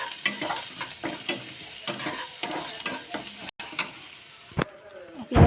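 Chopped onion with salt sizzles and fries in a pan, stirred in a steady rhythm of scraping strokes over a continuous crackle, close and moderately loud.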